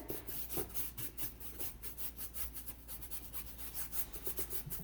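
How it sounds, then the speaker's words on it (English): Brush scrubbing thin black paint onto a canvas, a soft continuous rhythmic rubbing with repeated strokes, close but faint, with no talking. "get some black on my canvas and get it really super, super, super, super thin. Just scrub that in."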